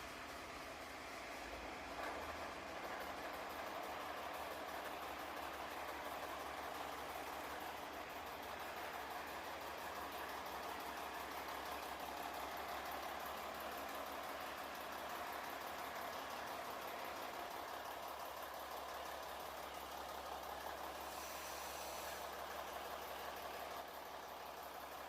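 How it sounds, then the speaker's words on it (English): A ship's main diesel engine in the engine room, started on air with a little fuel, runs at 350 rpm with a steady, low, continuous rumble and mechanical drone heard from nearby, unchanging throughout. "The engine is now running at 350 revolution per minute."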